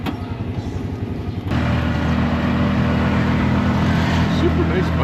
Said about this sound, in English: Super nice bus terminal here.